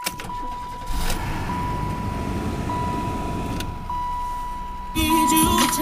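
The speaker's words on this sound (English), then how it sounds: "So we put the keys in the ignition, and with the jumper cables on," An Oldsmobile engine cranking over on jumper cables, a steady mechanical churning that runs for several seconds close by, then shifts to a louder, different tone near the end.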